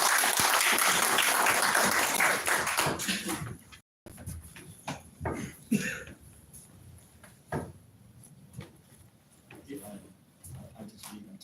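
A room of people claps at a Toastmasters club meeting. Loud, thick applause fills the first four seconds and cuts off abruptly, then people talk over a few faint scattered claps.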